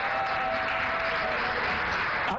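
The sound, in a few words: applause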